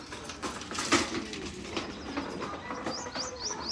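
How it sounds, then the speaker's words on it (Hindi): Many birds calling outdoors, with cooing and rapid chirps layered into continuous busy chatter, moderately loud, and a few high rising calls near the end. "बहुत ज़्यादा चिड़िया का आवाज़ आ रहा है, बहुत ज़्यादा"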